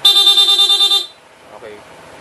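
Stock horn on a Honda PCX160 scooter gives one steady, bright beep lasting about a second, close and loud, then cuts off to near silence.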